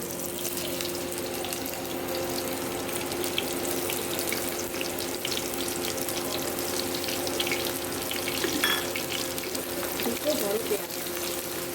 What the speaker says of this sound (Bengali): এবার পেঁয়াজ ভাজা হচ্ছে।